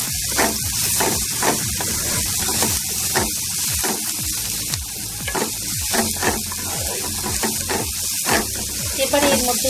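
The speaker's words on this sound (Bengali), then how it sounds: "নিয়ে এটাকে আবারও নাড়িয়ে নিচ্ছি" A spiced onion mixture sizzles and fries in a pan while being stirred, with steady crackling hiss and repeated scraping strokes close by, and faint talk underneath.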